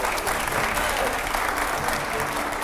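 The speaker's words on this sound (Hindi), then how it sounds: "तालियां हो जरा।" Audience applause at a televised political discussion with editors, a steady dense wash of clapping throughout a short stretch with no break.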